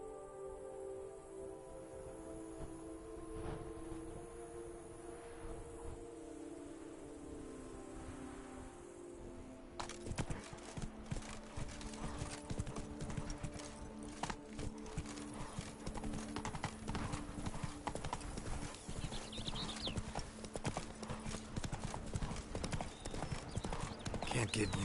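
Roach the horse trotting in The Witcher 3: Blood and Wine, steady clip-clop hoofbeats that grow louder and denser partway through, with crickets and speech in the background.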